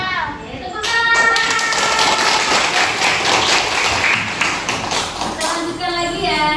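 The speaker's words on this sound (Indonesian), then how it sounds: "Tepuk tangan." A class of young children clapping their hands together in a classroom, a dense burst of quick claps close by mixed with lively kids' voices and chatter throughout.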